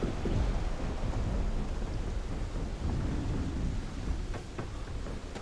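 Steady heavy rain pours with rumbling thunder in Starfield, a video game, a dense continuous wash of noise with deep low rolls and a few sharper drops near the end.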